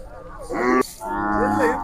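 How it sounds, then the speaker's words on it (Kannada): Oxen at a cattle fair in Chadchan, Karnataka, give two loud, drawn-out moos close by, separated by a brief pause, with the fair's murmur underneath. "ಇಲ್ಲೊಂದಿಷ್ಟು ಎತ್ತುಗಳಿದೆ"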